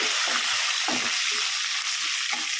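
Curry leaves dropped into hot oil for a dal tempering, giving a continuous bright sizzle and crackle with a few soft stirring bumps, close and steady.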